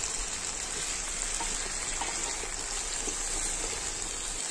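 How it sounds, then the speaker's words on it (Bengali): Marinated chicken and vegetables stirred with a spatula in a hot pan, with steady dense sizzling and hissing of frying oil throughout, a few faint scrapes and knocks beneath. "চিকেনটা দিয়ে খুন্তি দিয়ে নেড়ে চিকেন আর সবজির মেলবন্ধনটা করে নেব।"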